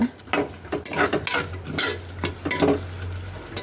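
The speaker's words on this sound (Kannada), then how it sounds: "ಒಂದು ಸರಿ ಮಿಕ್ಸ್ ಮಾಡ್ಕೊಳ್ಳೋಣ" A spoon scrapes and stirs a cooking mixture in a metal pot on a gas stove, several quick close strokes clattering against the sides with a faint sizzle underneath.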